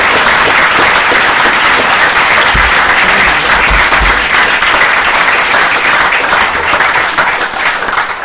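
An audience gives a sustained, loud round of applause for a police band and school students at an evening community event, the dense clapping holding steady throughout before easing slightly at the end.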